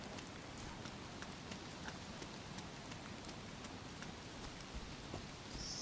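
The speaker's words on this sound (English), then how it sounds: "A little bit of a rainy day." Steady rain pours down in DayZ at the Viborg Military Base, a dense, even hiss with scattered drips and taps running throughout at constant loudness.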